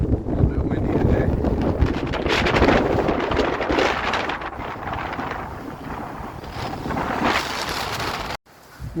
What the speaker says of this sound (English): A little bit windy today.